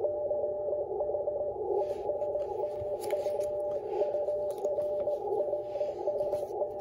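Several amateur radio stations sending Morse code, heard as steady overlapping sidetone beeps in an unbroken rhythm over a hissing band, moderately loud with no voices, while calling a station in France during an SKCC straight-key event.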